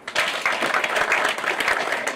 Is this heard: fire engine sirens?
no